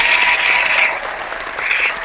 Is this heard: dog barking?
no